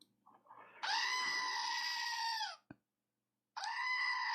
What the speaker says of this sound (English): do you want the goat? Here's the goat.